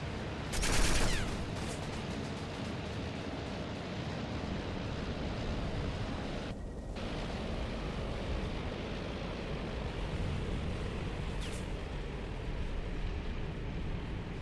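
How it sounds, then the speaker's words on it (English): A carrier comes under bombing in the Task Force Admiral Battle of Midway naval game. A constant roar of sea and wind runs throughout, broken by a sharp early burst of gunfire and scattered distant shots, with no voices. "Our carrier's getting bombed."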